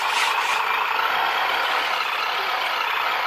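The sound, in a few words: RC military truck HGP803A HEMTT engine sound module starting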